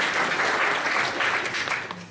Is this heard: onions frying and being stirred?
no